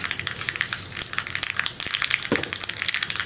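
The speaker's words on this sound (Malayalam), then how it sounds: "പാനിലേക്ക് വെളിച്ചെണ്ണ ഒഴിച്ച് വെളിച്ചെണ്ണ ചൂടായിട്ടുണ്ട്. നമുക്കിതിലേക്ക് ഒരു 3/4 ടീസ്പൂൺ കടുക് ചേർത്ത് കൊടുക്കാം" Mustard seeds spluttering in hot coconut oil in a pan, a dense, loud run of sharp crackling pops throughout, with no voices.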